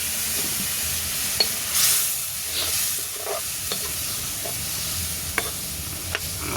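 Spices fry in a pan with a constant bright sizzle, punctuated by several sharp scrapes and clicks of stirring, close and unaccompanied by talk.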